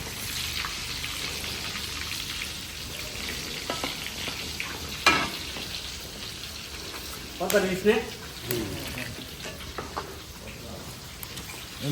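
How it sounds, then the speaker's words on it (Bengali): Padma hilsa fish frying in a pan on the bank of the Padma river gives a constant crackling sizzle with sharp spits and stirring scrapes, as voices talk nearby. "ইলিশ মাছের ভাজা পদ্মার ইলিশ"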